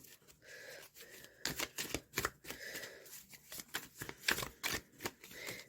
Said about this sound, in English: Shuffles well.